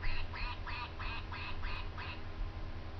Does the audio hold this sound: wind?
no